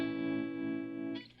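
Electric guitar through a tremolo effect holding one sustained note or chord that pulses rhythmically in volume for about a second before cutting to a short noisy scrape.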